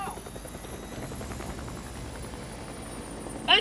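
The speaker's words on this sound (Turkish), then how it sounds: "Bütün o zombiler bu helikopterin sesine gelmiyor mu?" Helicopter in the video game Days Gone, a steady close rotor thrum and engine whine holding evenly throughout, with a sharp burst of noise at the very end.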